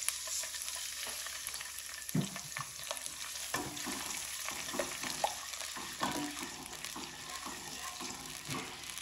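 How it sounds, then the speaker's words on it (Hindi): Koftas frying in a pan with a little water added, giving a steady soft sizzle with scattered crackles and stirring scrapes, fairly quiet and close, with no talking. "अब यहाँ पे थोड़ा सा पानी ऐड कर दूंगी,"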